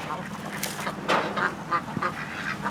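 Ducks in a home garden give several loud, close quacks and honks in irregular bursts, with no talk over them.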